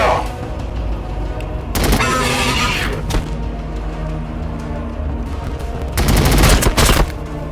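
Gunfire and explosive bursts from the strategy video game Warhammer 40,000: Battlesector, loud volleys that come in two heavy clusters over a rumbling battle backdrop.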